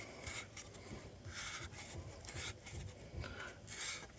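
A mountain bike shock preload adjuster is twisted by hand, making faint, soft rubbing and rasping sounds. They come in short, irregular strokes of roughly half a second each, close up and quiet.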